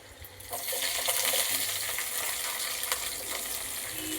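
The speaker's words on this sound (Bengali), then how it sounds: "কালো জিরের সঙ্গে একটু রসুন ফোড়ন দিয়ে দিলাম রসুন ফোড়নের সঙ্গে একটু পেঁয়াজ ফোড়নও দিয়ে দিলাম" Garlic and onion sizzle in hot oil with black cumin (kalonji) in a pan, a loud close crackling fry that swells after a quieter start and holds steady with stirring noise.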